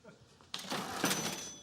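A cash register drawer opens suddenly with a bright metallic clatter and ring that carries on for about a second, loud and close against a quiet room.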